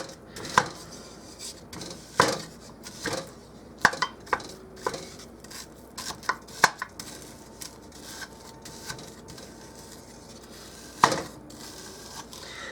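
Partly frozen ground sirloin being broken up in a pan, heard as sharp, irregular scraping and knocking of a utensil against the pan, with scattered clacks close by and quieter stretches between them.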